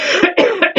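Four quick, loud, close coughs from one person in a smoky room with incense burning, coming in a rapid ragged series.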